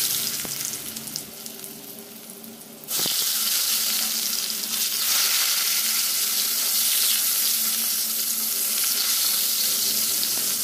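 Pointed gourd drops into hot oil and bursts into a loud, steady sizzle after a quieter start, then keeps frying continuously and close up, with no talking.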